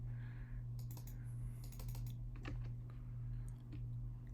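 Someone types quickly on a computer keyboard, producing soft, fairly faint clusters of clicks in uneven bursts over a steady low hum.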